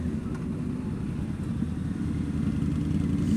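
A motorcycle ridden at low speed on the road to a 2 Wheel Showdown event, its engine a steady, close, rumbling drone that swells slightly toward the end, with no talk.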